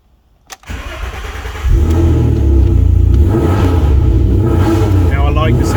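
An Alfa Romeo 155 wide body V6 cranks briefly, catches and settles into a loud, close, rumbling run with rising revs, and someone talks over it.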